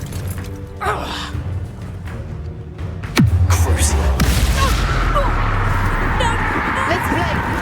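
A Confringo fire spell bursts in Hogwarts Legacy combat with a sudden sharp blast, followed by a sustained low rumbling roar and crackle that lingers loud through the rest, over earlier scattered battle noise.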